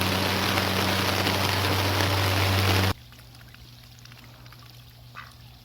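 Rain falling outdoors, a loud dense hiss for the first half that cuts abruptly to a much quieter patter with faint background noise.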